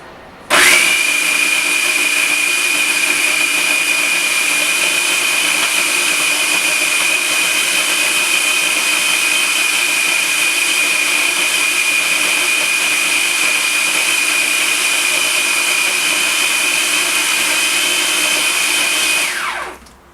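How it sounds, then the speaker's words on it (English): A blender whirs steadily for about twenty seconds, blending coconut pie filling with vanilla extract; the motor starts abruptly, holds a loud, even high-pitched drone with no pitch changes, then spins down at the end. No voices. "I'm going to just start blending it away"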